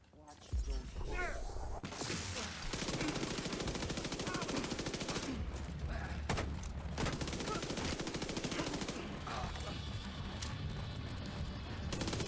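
Rapid automatic gunfire and bursts of shots from shooting enemies in The Division 2 video game, loud and nearly continuous, with a voice speaking over the combat.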